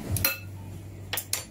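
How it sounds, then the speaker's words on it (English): A spoon stirs a pot of lemony Greek food, giving a few short metal-on-pot clinks: one near the start and two close together near the end, with a steady low hum between them and no talking. "I'm just gonna give that a stir and check it"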